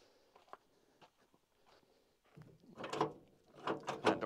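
Soft metallic clicks and rattles of a 1965 Chevy C10 pickup truck's door handle being tugged on a door that doesn't open, ending in a few louder thunks and clunks close by.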